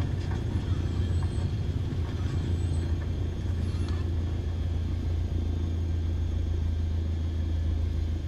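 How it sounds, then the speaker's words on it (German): An airliner in Microsoft Flight Simulator 2020 brakes and rolls down the runway after landing, a steady, loud low rumble with faint mechanical noise above it and no talk. "Betätigen Sie jetzt die Bremsen, um das Flugzeug zu verlangsamen und dann anzuhalten."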